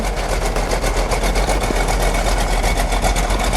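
A 1971 Plymouth Cuda convertible with a 383 V8 idles close by, giving a steady, even rumble with a fast, regular pulse that runs unbroken throughout, with no talk.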